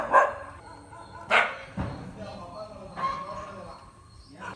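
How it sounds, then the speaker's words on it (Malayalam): A dog barks several times in separate, spaced-out bursts at moderate distance, with quiet pauses between the barks. "ഈ നാട്ടിലുള്ള ആൾക്കാരല്ലാത്ത ആര് വന്നാലും നായ കുരയ്ക്കും."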